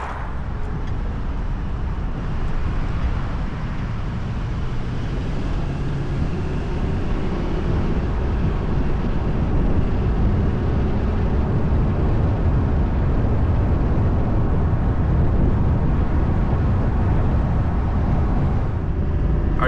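Chevy Silverado 3500 with the L5P Duramax diesel pulling a trailer, a steady, loud low rumble of engine and road noise rolling on without a break, with no talk over it.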